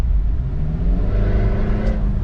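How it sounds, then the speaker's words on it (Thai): A Mitsubishi Pajero Sport's aftermarket exhaust roars and revs close by with its valve open, a deep continuous rumble with rising engine pitch. "พอเปิดวาล์วเสียงแม่งดังลั่นเลยอ่ะแล้วก็แรงด้วย"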